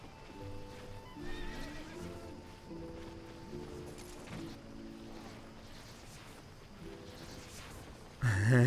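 A horse in the video game Albion Online gives a long whinnying neigh over a soft clip-clop of hooves, moderately close, ending with a sudden louder thump.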